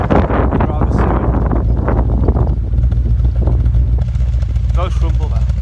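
A BMW E34 540i V8 rumbles with a deep, steady exhaust note, heard close up under wind buffeting on the microphone and someone talking.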